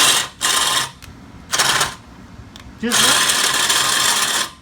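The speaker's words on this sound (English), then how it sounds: "Snap-on tools are good, but their fucking drills suck." A Snap-on power drill runs in three loud bursts of whirring. The first lasts about half a second, the second is brief, and the last is a longer run of more than a second, with quieter gaps between them.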